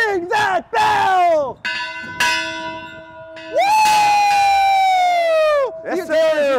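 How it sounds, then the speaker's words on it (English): A bell rings at a UTRGV men's basketball season preview, its steady, ringing tones sustained and fading between loud, excited shouts and cheers. "Ring that bell!"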